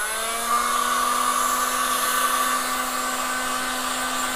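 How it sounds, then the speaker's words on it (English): A heat gun blows steadily during work on a Talon gun grip, giving a constant whirring drone with a fixed motor hum, loud and close throughout, with no talking. "So I'm going to take the heat gun,"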